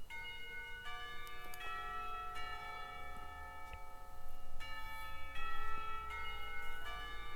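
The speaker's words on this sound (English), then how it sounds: "The clock tower bells ring, signaling the end of class period." Clock tower bells at a school academy in the visual novel Katawa Shoujo ring out in a slow sequence of resonant chimes, each strike sustaining and overlapping the next, growing louder midway.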